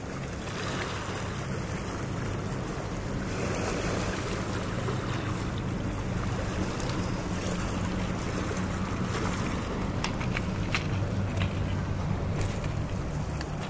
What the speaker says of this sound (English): Sun is shining and there's a bit of wind blowing downstream.